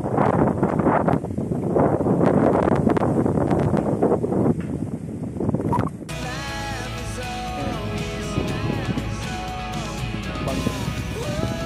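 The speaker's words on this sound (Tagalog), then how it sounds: "Lakas pa ng hangin." Strong wind at a cliffside river view deck in Baliangao, Misamis Occidental, buffets the microphone with loud, gusty roaring, then gives way to a steadier outdoor rush with faint tonal sounds.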